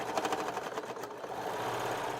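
A serger stitches dress pattern pieces for a McCall's M8383 Valentine's Day dress, its fast, steady whirring rhythm running continuously and close by, with no talking.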